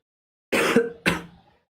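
Someone with a cold clears their throat, then gives a short cough, two close, loud bursts alone in an otherwise silent room.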